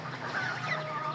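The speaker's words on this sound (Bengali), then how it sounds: "এই বাউন্ডারিতে মুরগি হাঁস থাকে।" Chickens cluck continuously in a backyard boundary enclosure also housing ducks, geese and pigeons, a close, steady murmur of short clucks with no voices.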